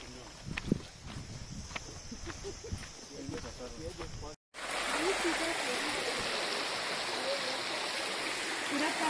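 Flowing forest stream of drinking water on a trek at Kudremukh, a steady rushing wash that fills the second half after a cut, with footsteps and knocks heard earlier.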